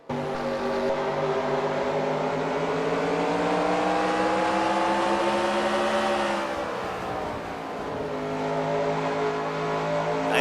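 Race car engine in a NNSCRA Superstar Racing Experience sim race at Stafford, heard onboard: a loud, steady high-revving drone with layered harmonics that dips briefly as the driver lifts, then climbs again.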